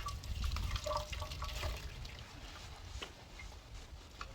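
Water splashes and drips while soap is rinsed off a baby during a bath in Benin, soft nearby sloshing that is louder at first and then fades to faint trickles.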